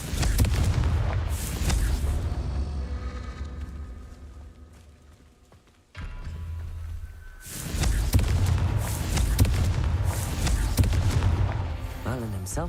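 Hogwarts Legacy's Confringo fire spell blasts in the video game, heavy booming explosions roaring loud, fading, then a second strong burst after a brief near-silent gap.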